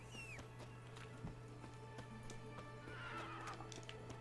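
A horse in The Witcher 3 video game gives a faint whinny, with soft clip-clop hoofbeats and a low constant hum in the game audio.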